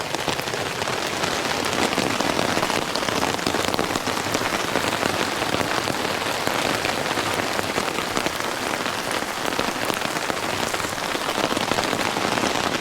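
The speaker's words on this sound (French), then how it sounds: "Il est à l'abri de la pluie, mais la pluie elle était tellement forte" Heavy rain pours onto a tent during a mountain cycling trip near the Col de Vars, a dense, steady roar of drops that stays loud and constant with no voices.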